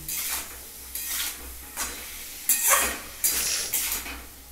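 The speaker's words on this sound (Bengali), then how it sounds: "হলুদটাও অল্প দিলাম যাতে একটু কালারের জন্য এটাকে একটু পাঁচ মিনিটের মতো ভাজতে দিচ্ছি" Vegetables with a little turmeric fry in a pan, each stir bringing a burst of sizzle and the scrape of a spoon, about five of them in a loose rhythm, near and fairly loud.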